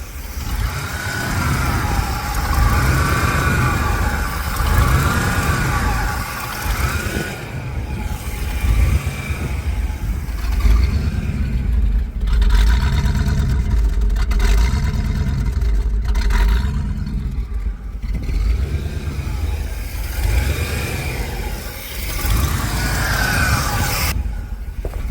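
A 1989 GMC Sierra K2500 pickup's engine, abandoned for a decade, idles steadily with recurring surges and a throbbing exhaust, running close and loud for the whole stretch with no talk.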